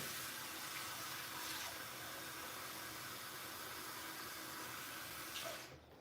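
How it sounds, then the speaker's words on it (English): A steady, hissing stream of warm water pours into an Instant Pot, continuous and fairly quiet, tapering off at the end. "I'm gonna add a little hot water"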